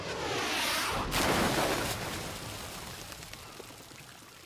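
A vehicle plunges into water in the Just Cause video game, a broad rushing splash that swells, peaks and then slowly fades into a dull wash. It is fairly faint and there is no talk over it.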